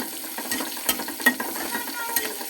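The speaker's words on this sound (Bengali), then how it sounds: "রসুন, পেঁয়াজ এরকম কড়া ভাজি হওয়ার ফলে" Garlic and onion fry crisply in oil for a bottle gourd greens dish, a soft sizzle punctuated by small spatula scrapes and crackles at uneven intervals.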